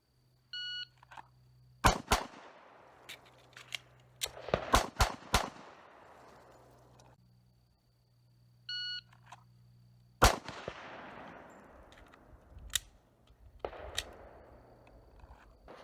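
A 10mm M&P 2.0 pistol fires at a range in two loud bursts of rapid shots, several sharp reports each, separated by quiet pauses, with short electronic beeps from a shot timer before each string.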